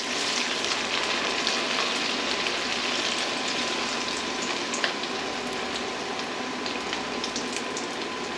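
Breaded chicken parmesan fries in oil at about 350 degrees, a steady, dense crackling sizzle that stays even and close throughout, with no voices.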